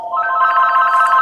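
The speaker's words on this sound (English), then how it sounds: "Sorry about the phone call." A telephone bell rings in one loud, close burst, a bright trilling jangle held for about a second before it cuts off.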